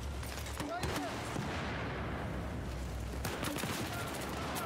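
Gunfire in the video game Battlefield 4 on the Operation Locker map: dense, distant-sounding bursts of shots crackle in a steady battle din, with a couple of sharper volleys standing out.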